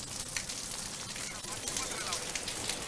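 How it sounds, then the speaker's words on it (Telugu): Heavy rain pouring down in Hyderabad, a dense hiss of drops on surfaces, steady and fairly loud throughout with no pauses. "హైదరాబాద్లో భారీ వర్షం ఉంటుంది."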